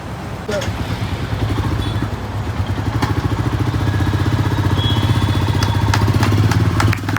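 A motorcycle engine idles steadily, the newly gifted dream bike at a village temple, with a continuous low throbbing rumble and occasional clatter throughout.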